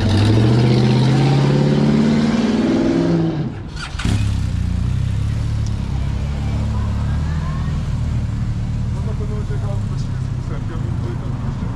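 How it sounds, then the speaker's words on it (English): A car passes close by on a road in the Peak District, its engine whooshing past with a sharp swell, followed by steady traffic rumble and people talking. "There's a car."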